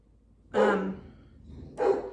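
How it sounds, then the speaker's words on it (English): A dog barks twice, loud and close, with a short pause between the two barks. "my dog is barking"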